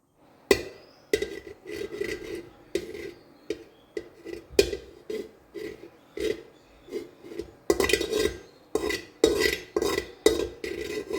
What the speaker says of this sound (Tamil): பட்டை கிராம்பு எல்லாம் பொரிய ஆரம்பிச்சிருச்சு